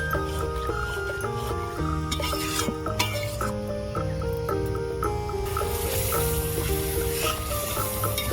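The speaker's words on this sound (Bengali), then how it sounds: "চিংড়ি ভাজিনি কারণ হচ্ছে চিংড়ি বেশি ভাজলে চিংড়ি শক্ত হয়ে যায় এই জন্য আমি এই গ্রেভির মধ্যে দিয়ে কিছুক্ষণ কষিয়ে" Prawns are stirred through a thick biryani gravy in a pan, giving a continuous scraping, bubbling sizzle with spoon clinks, heard close and without talk over a steady background tone.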